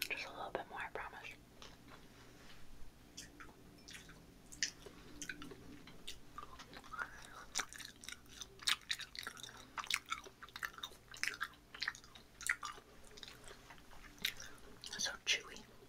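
Close, wet chewing of crunchy, gummy food, with soft irregular crunches and squishes repeating steadily, accompanied by quiet whispering throughout.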